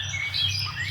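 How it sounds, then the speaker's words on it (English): A few thin, high bird chirps flicker faintly above a steady low hum, with short tweets scattered across a brief moment. "Birds chirping on my nest."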